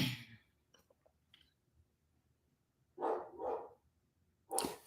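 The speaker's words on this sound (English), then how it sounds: "Excuse my dog in the back" A dog barks from somewhere behind the room, a few short separate bursts spread across the moment with quiet gaps and faint clicks between them.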